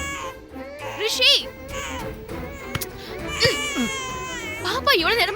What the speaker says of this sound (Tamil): பாப்பா எவ்வளவு நேரமா அழுதுட்டு இருக்கா?